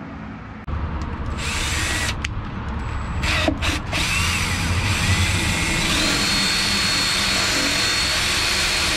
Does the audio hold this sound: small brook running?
no